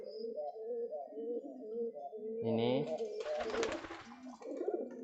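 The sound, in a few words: pigeons cooing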